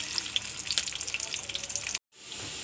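Steady loud crackling sizzle of onions frying in hot oil, briefly cut off near the end before the hiss resumes.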